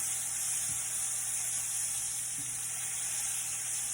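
Beef for stroganoff sears in a pan, a steady, soft, close hiss of sizzling that runs evenly throughout with a couple of faint light knocks.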